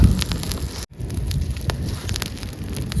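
An open cooking fire crackles and hisses steadily up close, with scattered sharp pops over a low rumbling roar.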